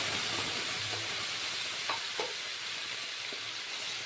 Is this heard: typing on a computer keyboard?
no